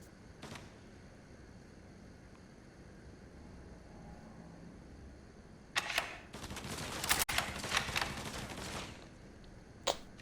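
Gunfire in the Mafia 3 video game: a sharp burst of shots and crackling reports around the middle, with a couple of isolated bangs before and after, over a quiet ambient background.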